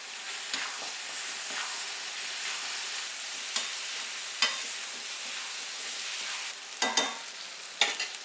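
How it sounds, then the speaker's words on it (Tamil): Chopped tomatoes sizzle steadily in a pan for prawn thokku as they are stirred, with a soft continuous frying hiss and several sharper scraping strokes of the spoon, louder toward the end. "நல்லா வதங்கட்டும்"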